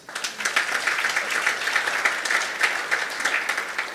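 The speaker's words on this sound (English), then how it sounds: "please can we give a round of applause?" An audience at a business interview event gives a round of applause, steady dense clapping that fills the room throughout, with no talking over it.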